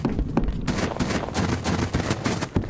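Gunfire in the survival shooter Road to Vostok: a dense run of sharp, loud cracks follows one another in quick, uneven succession across the clip, with steady in-game ambience underneath and no break in the shooting.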